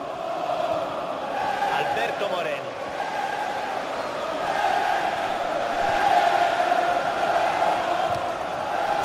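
Liverpool supporters roaring in a football stadium in FIFA 15, a dense sustained crowd din with swells of chanting and cheering, with a commentator's voice talking over it.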